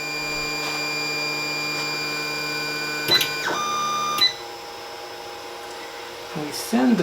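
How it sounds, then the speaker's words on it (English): A 3D printer homing its print head, with steady motor and fan whine, a few sharp stepper-motor sweeps and clicks partway through, then a quieter hum with another brief motor burst near the end. "We send the printer home."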